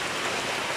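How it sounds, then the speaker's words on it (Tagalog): Heavy rain pours down steadily in a continuous, dense hiss with no breaks and no voices. "Totoong ulan na talaga to"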